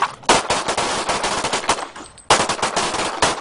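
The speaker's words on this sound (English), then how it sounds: "Bullets fly as agents take part in quarterly training" Rapid bursts of gunfire from FBI agents' firearms training at an outdoor gun range, loud and close, with sharp repeated shots in quick volleys and a brief pause before firing resumes.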